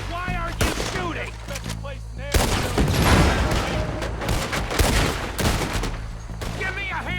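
Rapid gunfire rattles in Red Dead Redemption 2, with dense volleys of loud shots and booms clustered through the middle, while voices shout over the fighting at the start and end.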